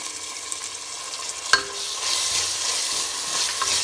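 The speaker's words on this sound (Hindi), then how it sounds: "अभी दे देती हूँ अदरक एंड लहसुन के पेस्ट" Ginger-garlic paste hits hot oil with a sudden sizzle, then frying crackles steadily close by as it is stirred in the pan with onions for rajma pulao.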